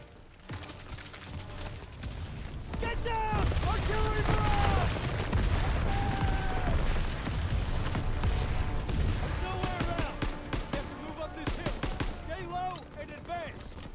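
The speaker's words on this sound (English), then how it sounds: "Artillery barrage!" Battlefield din from a Call of Duty WW2 campaign mission under an artillery barrage: sustained loud rumbling blasts and gunfire layered with shouted voices, dense and continuous throughout.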